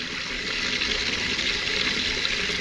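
Water pouring onto a bathroom floor to check for leaks, a steady close rushing splash that continues unbroken and fairly loud throughout.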